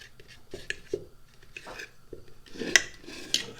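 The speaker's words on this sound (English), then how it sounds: "I'm just going to take my fork start mashing this guy up against the side of the bowl" A fork mashes lettuce against the side of a bowl, making soft scraping and rubbing with a few light clinks of metal on the bowl, close and quiet.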